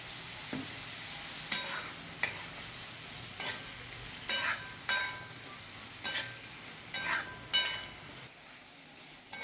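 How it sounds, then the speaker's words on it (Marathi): Pumpkin pieces sautéing in hot oil with spices and asafoetida, stirred in a pan: a steady soft sizzle broken by about a dozen sharp scraping stir strokes at a roughly regular pace, fairly close, with no talking. "चांगले आपण त्या तेलामध्ये आणि मसाल्यांमध्ये भोपळा आपण परतून घेऊया"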